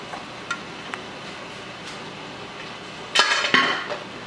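A metal lid lifted off a canner holding jars of homemade papaya jelly after the burner is turned off, with a few light clinks followed by a brief, close metallic clatter and rattle.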